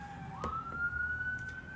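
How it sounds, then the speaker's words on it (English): An emergency vehicle siren drives past at a distance, a rising electronic wail that climbs in pitch and holds steady over faint traffic and background hum, with no talking. "How is there just constant sirens?"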